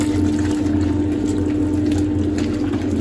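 Cold water pours into sourdough bread dough, a short, loud, continuous gushing stream with a low steady hum beneath it, and no one speaking.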